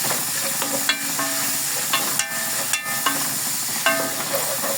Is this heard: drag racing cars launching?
no